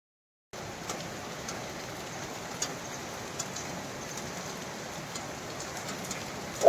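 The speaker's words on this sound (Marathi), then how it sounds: "सकाळ सकाळ मस्तपैकी पाऊस पडतोय" Steady rain falls with a constant soft hiss, a few brief drops pattering a little louder now and then, with no voices.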